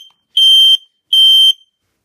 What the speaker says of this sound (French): On entend donc la mise en service avec un petit bip strident.